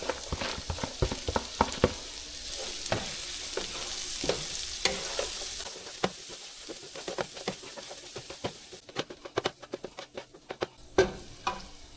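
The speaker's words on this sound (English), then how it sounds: "just cook that shallot down so it gets nice and soft" A shallot, added after garlic, cooks down in a pan for a Cajun creamy chicken dish. A steady sizzle runs under many sharp taps and scrapes from stirring, and the sizzle eases toward the end.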